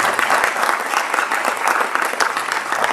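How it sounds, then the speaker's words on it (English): At a school board of education meeting, a room of attendees breaks into brisk, sustained applause, thick and even throughout the short stretch with no pauses. "Let's all give her a round of applause."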